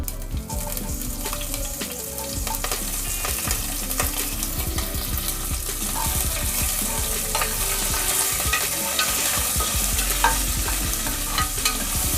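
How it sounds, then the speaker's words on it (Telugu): Whole garam masala and long thin-cut green chilli strips fry in hot oil for a pressure cooker chicken biryani, a dense continuous sizzle and crackle with occasional stirring clicks, steady throughout and unaccompanied by speech. "ఈ హోల్ గరం మసాలా కొంచెం ఫ్రై చేసుకోవాలి."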